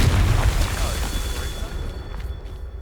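The Confringo fire-blast spell in Hogwarts Legacy, a single low booming explosion that bursts at the start and fades over a couple of seconds.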